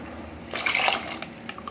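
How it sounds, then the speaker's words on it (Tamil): Lentil water poured into a pot of Mysore rasam, a soft liquid splash that swells after a quiet start, then settles into trickling and light drips, close and fairly faint. "இது கூட பார்த்தீங்கன்னா பருப்பு தண்ணி சேர்த்துருவோம்."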